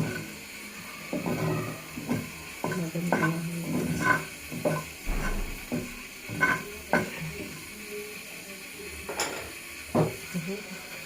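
Food frying in a pan is stirred repeatedly until it browns, with irregular scraping clatters of the utensil against the pan over a steady sizzle, fairly close and continuous.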